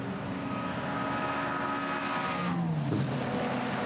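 A bright red Porsche race car, number 111, roars steadily down the Döttinger Höhe at the Nürburgring during a 24-hour classic race, nursing a right front tyre problem. The engine drones loud and sustained, then a brief pitch shift marks a passing moment.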